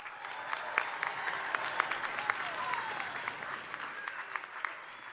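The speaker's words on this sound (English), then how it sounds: "Let's give them a round of applause." An audience at the 56th annual Carol of Lights ceremony gives the event organizers a round of applause, soft and somewhat distant, with a few sharper claps and a faint whistle rising over the steady patter.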